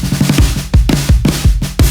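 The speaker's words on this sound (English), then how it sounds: "This is the same snare, but through gorgeous microphones." An 80s pop-style acoustic snare drum captured through high-quality studio microphones, hit repeatedly in a steady pattern of punchy, bright strikes with short decays, played alone without any voices.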